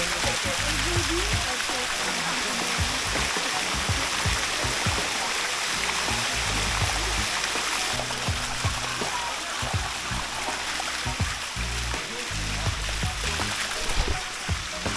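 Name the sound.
waterfall flowing in a jungle in Thailand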